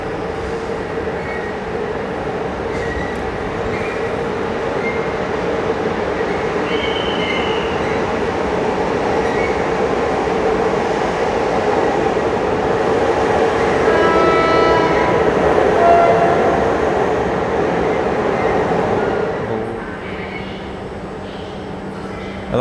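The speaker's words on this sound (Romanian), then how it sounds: "Și așteptăm și noul tren Interregio 375 Mureș dinspre Budapesta Keleti," Interregio 375 Mureș train from Budapest Keleti arriving on track 3 at Arad station: a loud, steady rumble of rolling wagons and wheels, with faint squeals and a brief horn-like tone, fading near the end.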